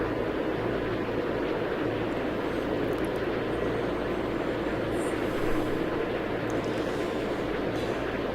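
Airliner taking off at Munich airport in Tower!3D Pro, a steady loud droning engine roar that holds constant throughout with no talking.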